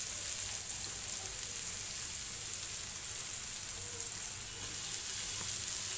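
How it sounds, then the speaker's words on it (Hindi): Onions fry with cumin and asafoetida in a steady, even sizzle, a continuous hiss at moderate level with no breaks. No voices are heard. "अब डालेंगे इसमें प्याज और प्याज को गुलाबी करते हैं।"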